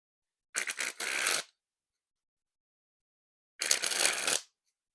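Two bursts of fresh, stiff Black Vintage Jerry's Nugget playing cards being sprung from hand to hand, each a rapid fluttering riffle of about a second, crisp and close against silence.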